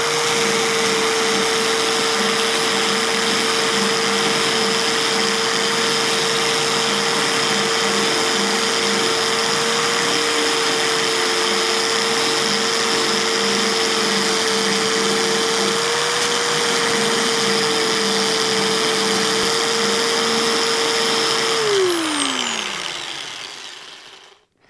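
A Bauer belt sander grinds down a weld with a loud, continuous high whine and abrasive roar that holds steady for over twenty seconds, then winds down as the motor stops.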